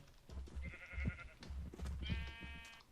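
Cows in the video game Minecraft give several short, quiet lowing calls in uneven succession over a low background hum.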